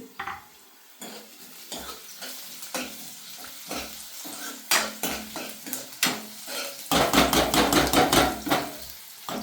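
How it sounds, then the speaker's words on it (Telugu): Mutton cooks in a pan, with intermittent scraping and stirring strokes against the metal, clinks of a utensil and a soft sizzle that builds and grows busier toward the end. "ఇప్పుడు నెక్స్ట్ వచ్చేసి మనం ఒకసారి ఫ్రై చేసుకోవాలి"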